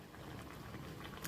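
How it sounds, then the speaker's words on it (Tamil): A Kerala-style fish curry simmers in a clay pot, giving a faint, continuous bubbling and gentle popping that stays steady for just over a second, with no one talking. "குழம்பு நல்லா கொதிச்ச உடனே"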